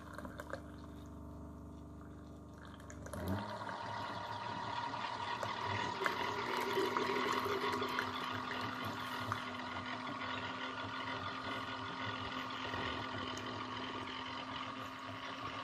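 A Mr. Coffee BVMC-SC500-2 K-cup single-serve coffee maker brewing, starting with a low hum and then a steady gurgling, hissing stream of water that runs continuously to the end without talk.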